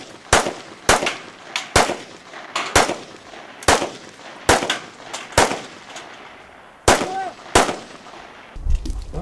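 Rifle fire from a military tactical shooting drill at a mechanized brigade training range: a dozen loud single shots at uneven intervals, each cracking and echoing across open ground.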